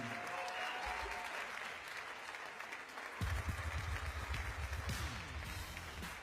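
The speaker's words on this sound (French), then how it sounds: "On applaudit bien fort Gad Elmaleh." Loud applause from a crowd, steady clapping that swells noticeably halfway through, with cheering mixed in.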